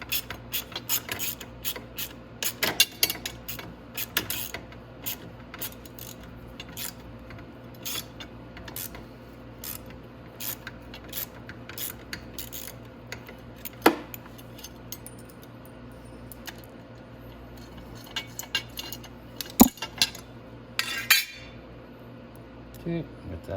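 8 mm bolts come out of the exhaust on a 250cc Venom X22GT: rapid ratchet-wrench clicking in bursts, light metallic clinks and taps scattered throughout, near and fairly quiet over a low background hum.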